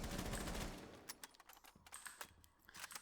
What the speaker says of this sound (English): Let me see if I can make it with my machine gun, as I don't necessarily want to use up the rest of my shotgun.